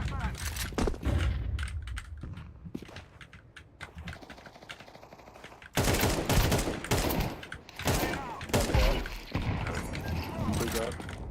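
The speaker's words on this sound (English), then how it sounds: "Throw in the flashbang." Video game gunfire with a thrown flashbang, rapid bursts of shots and sharp bangs mixed with keyboard clatter while players talk over it.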